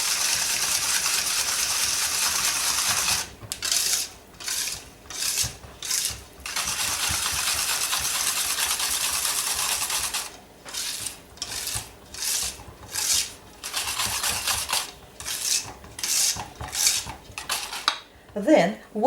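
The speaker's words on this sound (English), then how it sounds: "and whisk together" A whisk scrapes and rattles through cake batter in a bowl, starting with a continuous stretch and then settling into repeated bursts of rhythmic metallic swishing, close up, with no talking.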